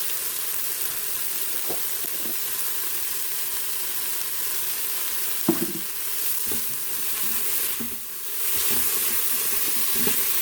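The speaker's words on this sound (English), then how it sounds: "And so just going to mix this up and add some salt at this point." Spiced rice with salt being stirred in an Instant Pot, a steady sizzling hiss with soft scraping stir strokes and occasional clinks, fairly close, with no voices.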